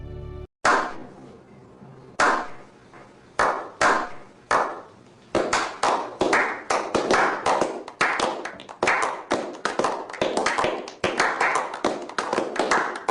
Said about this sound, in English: a slow clap is certainly in order